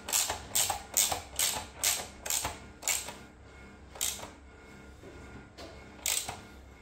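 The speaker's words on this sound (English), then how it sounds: "on tightening up all the bolts." Bolts being tightened on an R&G Tail Tidy fender eliminator fitted to a 2022 Yamaha MT-10 motorcycle, giving a run of quick, crisp ratchet clicks in bursts, close and fairly loud, with a few spaced clicks toward the end.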